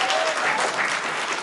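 Audience applause fills a short stretch, steady dense clapping from a room of listeners at a speech event, with faint cheering mixed in and no voice over it.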